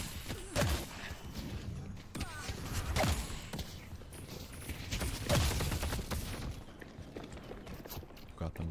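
Gunfire rattles in the video game Deadlock, dense bursts of shots and impacts under game sounds, with a voice talking over much of it.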